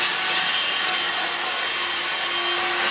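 A Vax Air Cordless Handheld H85-ACH-BD 20V vacuum cleaner runs steadily up close on a kitchen worktop, a loud continuous airy rush with a faint thin whine, with no talking.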